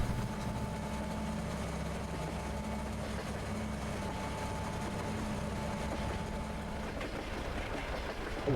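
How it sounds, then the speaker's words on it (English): A large train rolling past a field, a steady low engine rumble and rail noise held at a moderate distance and constant level, no voices. "Hello, train."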